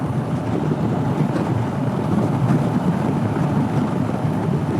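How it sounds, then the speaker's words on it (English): Strong, gusting wind of about 40 mph blows outdoors beside a road. It makes a continuous, rough roar that buffets the microphone, loud and close, with no voices heard. "It's windy out here."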